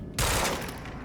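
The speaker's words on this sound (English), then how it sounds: "A burst fire pistol?" Burst-fire pistol shots in the video game Quantum Break: a sudden loud, dense volley erupts after a brief lull and rattles on with a sustained, reverberant wash of gunfire.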